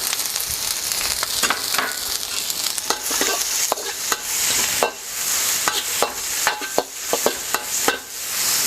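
Ginger and garlic hiss and sizzle in a hot wok during a chicken cashew stir fry, with repeated sharp scrapes and clacks of a utensil stirring, close and continuous, no talk.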